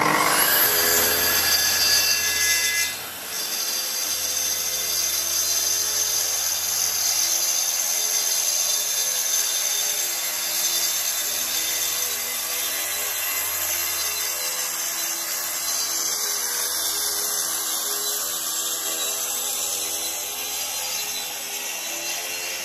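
A power saw cuts steadily through a composite decking board, giving one long continuous grinding whine that holds for about twenty seconds without a break.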